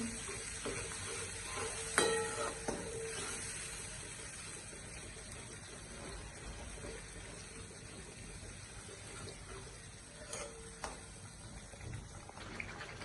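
Spoon slowly stirring yogurt into a Gujarati sing bhajiya curry, a soft, quiet wet swishing with a faint sizzle underneath, punctuated by a sharp metallic tap of the utensil early on and a couple of lighter knocks later.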